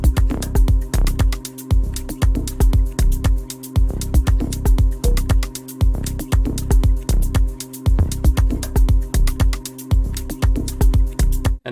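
A short, percussive synth bass line for an organic house track with a filter-cutoff envelope and low sustain pulses in a steady repeating groove of punchy low notes, layered with a driving beat, and no talk over it.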